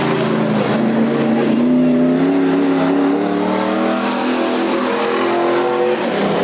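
A modified race car at Cottage Grove Speedway roars through a qualifying lap, its engine loud and close, pitch rising and falling steadily as it accelerates and lifts through the turns.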